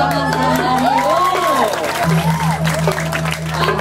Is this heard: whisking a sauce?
no